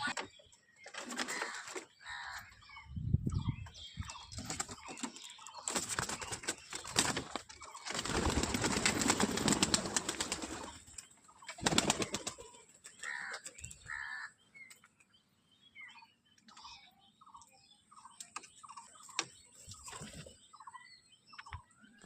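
Pigeons flutter and shuffle on a rooftop as their net is opened in the morning, with bursts of wing flapping, scraping and rustling up close, then quieter scattered movement and soft bird calls.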